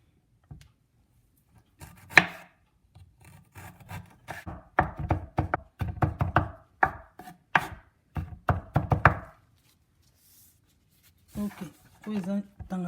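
A knife chops fresh coriander on a board in quick rhythmic strokes, close and crisp, while a person talks over the cutting.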